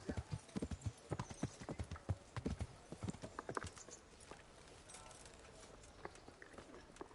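Horse hooves clip-clopping in the medieval video game Kingdom Come: Deliverance, a quick run of uneven hoof strikes that thins into a softer, steadier patter over a quiet background.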